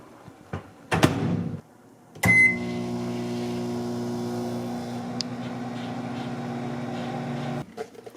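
A microwave oven set on high heats a steak. A door closes with a thump and a beep follows, then a loud steady electric hum with a fan drone runs for several seconds before stopping with a click near the end.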